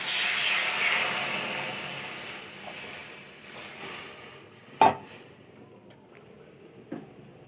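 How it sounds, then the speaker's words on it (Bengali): Water poured into a hot karahi on a gas stove sends up a broad steaming hiss that slowly fades, followed by a sharp metal clank and later a softer knock. "কড়াই বসিয়ে দিয়েছি, জল দিয়ে দেব।"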